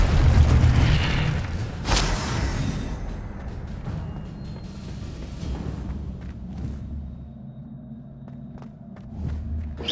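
Incendio fire spell cast in Hogwarts Legacy, a heavy booming blast at the start with a sharp crack, followed by a long rumbling decay and scattered smaller impacts.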